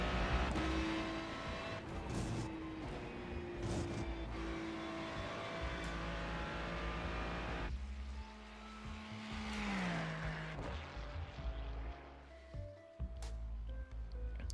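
A Ferrari 296 GT3 race car in Haas livery roars through the iRacing sim. The engine note climbs and drops through gear changes, with a brief tire squeal and no voices.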